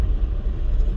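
Cars travelling at normal speed on a slushy winter road in Gdynia, a steady low rumble of tyres and engines, continuous and moderately near, with no voices.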